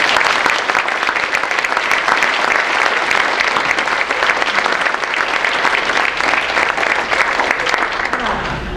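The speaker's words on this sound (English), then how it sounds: "can we do one last round of applause for all tonight's recipients?" An audience at a sports hall of fame induction ceremony gives a long round of applause for the award recipients. Dense, loud clapping fills the hall without pause from start to finish.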